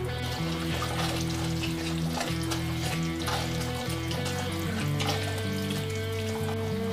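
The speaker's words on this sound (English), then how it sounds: "Now we stir." Cretons meat simmers and is stirred in a cauldron, giving a steady sizzling, bubbling wash with soft scraping, constant and fairly quiet, with no one talking.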